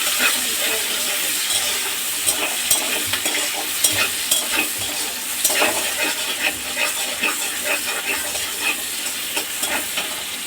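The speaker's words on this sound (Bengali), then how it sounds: "একটু লাল করে ভেজে নেবো পেঁয়াজটাকে।" Chopped onions frying in hot oil with whole garam masala, cumin seeds, dried red chillies and bay leaves. A steady close sizzle and hiss continues throughout, broken by frequent scraping stirs, with no talking.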